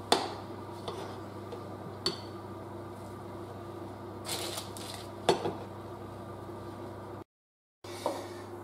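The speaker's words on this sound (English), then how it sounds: "And I'm mixing away here, trying not to spill the mixture out over the edges" Wheaten bread dough is mixed in a bowl, giving faint scrapes and a few sharp clinks of utensil against bowl over a quiet background hum.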